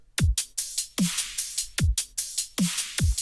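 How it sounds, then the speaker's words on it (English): Punchy dubstep drum beat: deep booming kicks and sharp snares alternating with crisp, fast hi-hat bursts, loud and close, no voices. "And every time these hi-hats aren't playing, the kicks and snares comes in."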